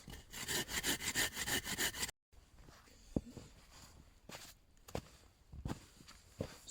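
A hand saw cuts around a piece of wood at a snowy bushcraft camp to shape a handle, giving about two seconds of steady rhythmic rasping strokes up close, then quieter scraping and a few knocks.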